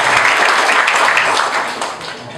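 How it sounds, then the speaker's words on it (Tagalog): An audience at a Q&A event applauds loudly, a dense burst of clapping close by that tapers slightly at the end. "Palakpak naman dyan."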